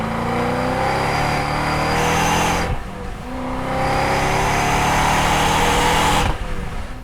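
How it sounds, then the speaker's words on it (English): A 2005–2010 Ford Mustang GT with a Corsa Sport axle-back exhaust revs loudly and close by. Two long climbs in engine pitch each end in an abrupt drop back toward idle, with no talking. "sound with the Corsa axleback is just awesome"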